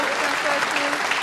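A snooker crowd applauds Mark Selby during a 147 break at the 2018 Champion of Champions. The clapping is dense and steady across the whole moment.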